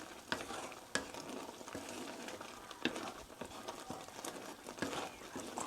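A spoon stirs mushroom soup seasoned with ground black pepper in a pot, giving soft repeated scrapes and taps against the side over a gentle bubbling simmer, close and fairly quiet.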